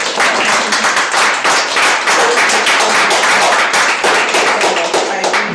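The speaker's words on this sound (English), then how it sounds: "Let's applaud." Applause from members at a speech-contest club meeting, many individual claps audible in a brisk, close, loud patter that holds steady throughout without speech.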